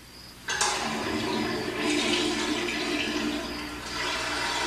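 Toilet flush starting abruptly with a loud rushing surge of water, then a sustained swirling drain and refill hiss that carries on steadily to the end.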